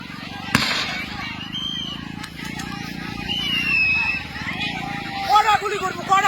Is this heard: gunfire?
yes